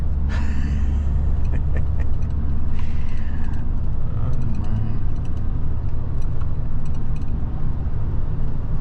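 Inside a moving car, a constant low road rumble and engine drone fill the cabin, steady and loud from start to finish. A few faint higher whooshes pass over it, and nobody speaks.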